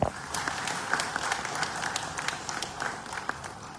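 Crowd clapping at an aid handover ahead of Galungan in Br. Tengah Gulingan, Bali; a steady patter of many hands with sharp individual claps over a background murmur.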